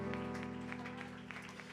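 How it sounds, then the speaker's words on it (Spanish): Church congregation applauding the Lord, a soft spread of clapping over a sustained organ or keyboard chord, quiet and somewhat distant. "dele un aplauso al Señor"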